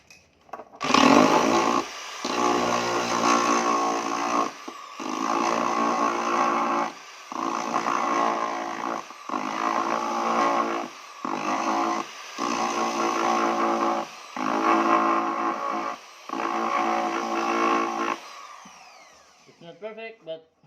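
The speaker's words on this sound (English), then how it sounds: "I'll just take this with stone to even it." Epoxy on a wooden guitar body being evened out with a stone, heard as loud, close, steady grinding in repeated bursts of a few seconds each, separated by short pauses.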